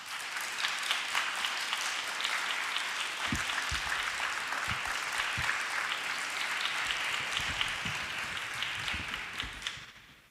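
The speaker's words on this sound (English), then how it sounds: "Let's give them another round of applause." A large audience applauds the Harmony Collective with dense, sustained clapping at an even level for about ten seconds before it quickly dies away at the end.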